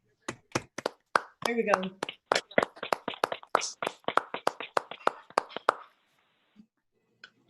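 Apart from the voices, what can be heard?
people clapping for Frank at a meeting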